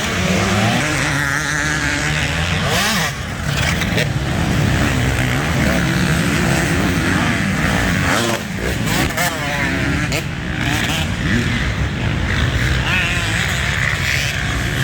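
Pro class motocross bikes at full throttle at Southwick, several engines screaming and rising in pitch as riders pass, loud and continuous with overlapping whines and revs from bikes near and farther off.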